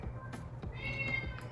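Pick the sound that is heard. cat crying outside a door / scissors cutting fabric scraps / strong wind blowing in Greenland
cat crying outside a door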